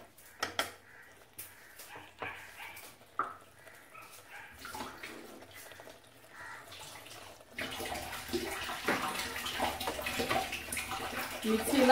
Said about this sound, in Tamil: இன்னும் கொஞ்சம் தண்ணி ஊற்றிடுவோம்.